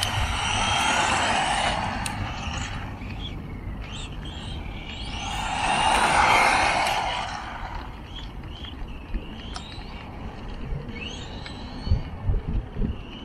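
A Tamiya TT02 Lancia Delta RC car on a small circuit, its electric motor whining up and down as it accelerates and passes close, with outdoor background noise and a few sharp knocks near the end.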